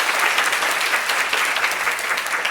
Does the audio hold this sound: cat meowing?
no